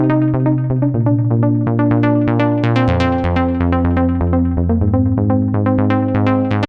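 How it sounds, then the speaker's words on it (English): A synth arp for a house track, layered with a sample pulled from Splice, plays as dense repeating plucked notes over sustained tones. It sounds steady and full throughout, with no voices. "we're going to layer that arp with something I found on Splice"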